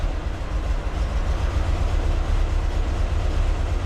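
A Volkswagen Vanagon engine idling at about 800 RPM, a loud, steady low rumble heard close up and unbroken from start to finish.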